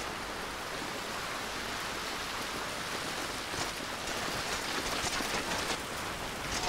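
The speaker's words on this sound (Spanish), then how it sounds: "Se pone a llover" Rain falls in GTA V during a cycling ride, a steady hiss of drops that thickens slightly toward the end, with no talk.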